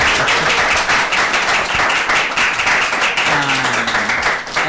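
A room full of people applauds loudly and steadily at an evening forum event, dense clapping continuing throughout with a few voices faintly underneath.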